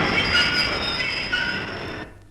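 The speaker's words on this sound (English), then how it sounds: "Here comes an empty train now." A train rumbles past with a high metallic wheel squeal over its steady roll, used as a sound effect in a radio comedy show, loud and close before cutting off abruptly near the end.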